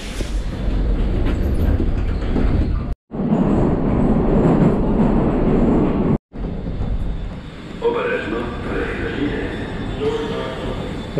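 A loud, steady rumble of an old Soviet metro train running in Kyiv, with grinding and rattling, briefly cut twice, then a higher whine as it moves.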